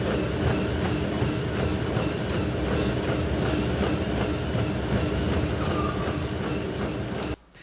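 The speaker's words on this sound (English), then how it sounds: "So the opening scene, he's running on a treadmill." Steady, rhythmic thudding footfalls of a person running on a treadmill, continuous and fairly loud over a constant mechanical hum, stopping abruptly just before the end.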